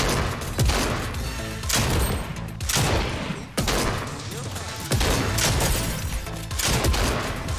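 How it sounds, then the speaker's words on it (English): Rapid video-game gunfire in Fortnite, dense and loud, with repeated bursts of shots and booms packed across the whole stretch and a voice talking underneath. "I've shot this guy so many times"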